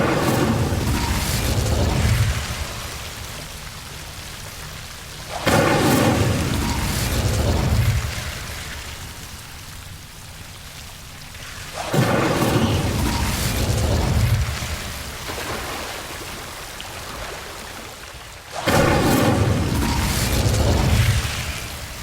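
Incendio fire spell cast repeatedly in Hogwarts Legacy: four loud, rumbling whooshing blasts at regular intervals, each dying away into a softer crackling tail before the next.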